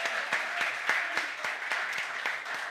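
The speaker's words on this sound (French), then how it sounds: "On peut l'applaudir." A French TV comedy show audience applauds steadily and evenly, a continuous wash of many hands clapping at moderate distance with no voices over it.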